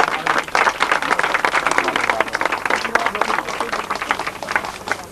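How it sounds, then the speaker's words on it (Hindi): Loud, sustained applause fills a church hall as an audience claps for Pastor Nadeem Bhatti at his ordination, a dense steady wash of clapping running throughout without pause. "हम जोरदार तालियां बजाएंगे।"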